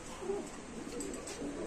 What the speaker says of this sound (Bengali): এত পরিমাণ কবুতর আজকে লফটে ঢুকছে।